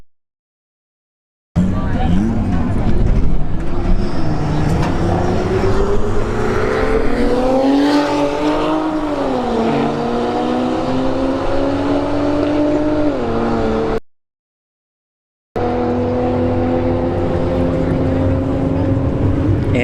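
Hyundai Elantra N and Infiniti Q50 street drag race at Bradenton Motorsports Park: loud engines climbing through gears with rising and falling pitch sweeps, cut by a brief silent gap before the roar resumes.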